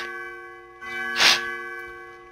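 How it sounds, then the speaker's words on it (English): Bells chiming in the video game Undertale over a steady sustained musical tone, with one bright ding swelling loudly near the middle and then fading back into the background. "Nope, they don't. The bells go."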